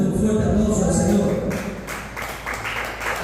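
A church congregation claps together, a dense patter of many hands that fades slightly toward the end, with voices mixed in.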